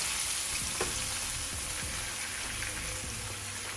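Eggplant and potatoes frying in hot oil with turmeric and five-spice, giving a loud, dense, continuous sizzle with occasional stirring clatter, close up and without talk.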